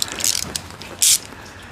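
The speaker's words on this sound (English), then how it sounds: "Busting out my good old trusty gear wrench. 90 tooth." A 90-tooth gear wrench ratcheting, two short bright clicking bursts close by, the second sharper and louder, with quiet pauses between.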